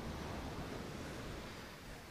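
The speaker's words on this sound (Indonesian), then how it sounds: "Dan inilah pantai pribadi saya." Ocean waves washing onto Koka Beach near Maumere form a steady, broad roar of surf with wind noise, filling the whole short stretch evenly and close by, with no voices.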